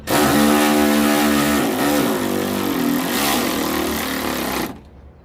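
A power tool snugs up the headlight mounting bolts on a 2008-or-later Ford Econoline van during an LED projector headlight install, producing a loud, close, steady motor whir that runs for about five seconds and then stops abruptly.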